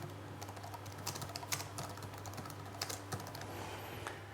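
Keys tapped on a computer keyboard while entering a short piece of text, faint clicks in an irregular scattered rhythm over a steady low electrical hum, no voices.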